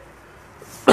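One short, sharp cough from a nearby man breaks a quiet room just at the end.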